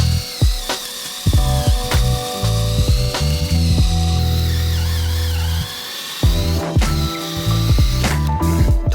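Power drill driving into wood while attaching angle blocks to a folding wooden MTB kicker ramp, with repeated short bursts of whirring and pauses between, loud and close, no talking.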